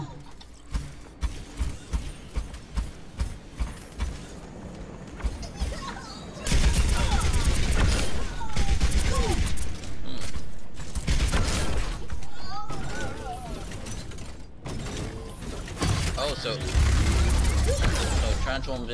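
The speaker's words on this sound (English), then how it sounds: "Transformed into a turret." Overwatch hero transforming into turret form: a run of rapid mechanical clicks and ratcheting clanks, then a heavy whirring mechanical shift into loud sustained machinery and gunfire-like bursts, with game voices over it.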